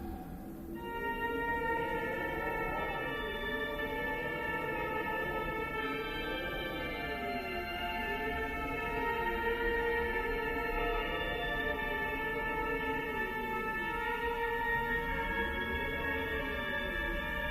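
A melody from the horror video game Fatal Frame plays alone as a slow, wavering tune with strong vibrato over a steady sustained drone, holding an even level throughout.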